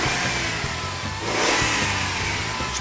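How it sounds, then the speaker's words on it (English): A 2003 Jeep Liberty with a misfire fault revving its engine, a loud, close, rough mid-pitched drone that rises and falls in steady surges without any talk. "Just rev it."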